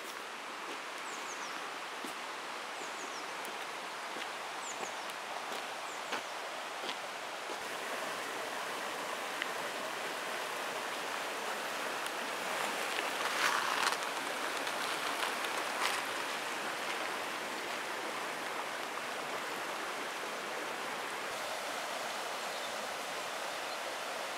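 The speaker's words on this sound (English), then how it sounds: "Crossing the river for the last time" River flowing on a Cornwall walk along an old disused tramway, a steady broadband rush of water heard close and constant for the whole stretch with faint brief ticks, no voices.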